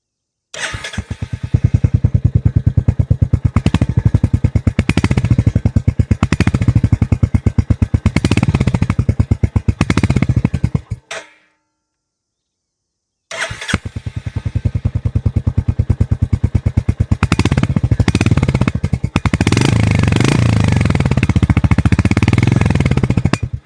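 A 2025 Royal Enfield Hunter 350 starts and idles, recorded close at the exhaust: a rapid, loud, even thumping beat runs for about ten seconds, cuts out briefly, then resumes just as steady.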